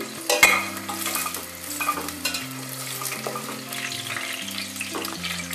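Food sizzles steadily in a hot pan while a utensil stirs and scrapes, with occasional clinks; no voices.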